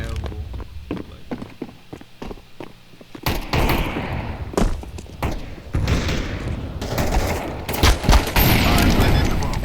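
In CS2, a thrown grenade bursts amid gunfire, with rapid shots and booming thumps building to dense, loud volleys toward the end, while a voice talks over the action.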